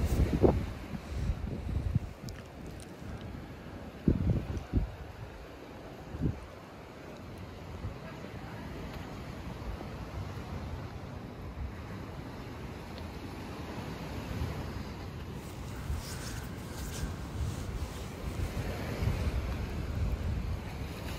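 Wind gusts buffet the microphone at the open seafront of Cala Bona, Mallorca, with thumping low rumbles and a steady rush of surf beneath, heaviest in the opening seconds and again near the end.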